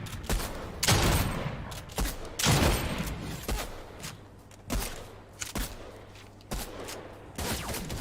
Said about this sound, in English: You're having to reload your guns and then you get shot to death.